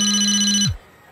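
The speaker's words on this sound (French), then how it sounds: "J'ai cru entendre sonner le téléphone de Roniane dans Tipeee." Cartoon mobile phone ringing, a steady electronic ring tone heard once at close range that cuts off abruptly partway through, followed by near silence and a brief click at the end.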